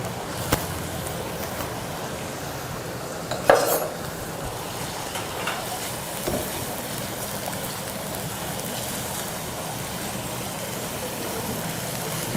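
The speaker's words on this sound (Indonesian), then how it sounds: "Setelah bawang goreng sedikit sudah mulai berubah warnanya, bisa diletakkan dagingnya." Steady sizzling of goat meat frying in hot oil with fried shallots, with a few clinks of a utensil against the pan partway through.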